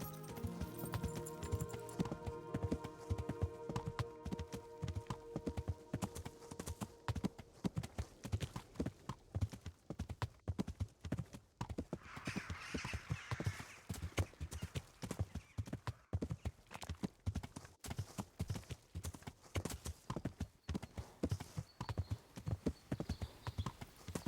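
On a horse in the Kingdom Come: Deliverance video game, hooves clip-clop in a steady, quick rhythm for a long stretch on the ground, close and clear, with a whinny near the start and faint tones in the background.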